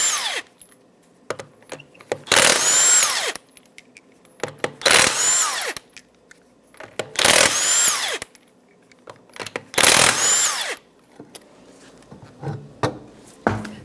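Power tool with a 21mm socket removing tire lug nuts on a 2009-2014 Nissan Maxima, four loud, close, whirring bursts of about a second each, separated by quiet gaps and small clanks.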